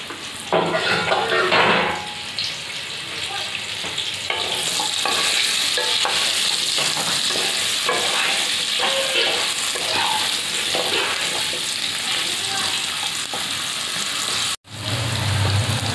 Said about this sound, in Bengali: ইঁচড়টাই তেলে ভেজে নিচ্ছি, সেদ্ধ করা ইঁচড়।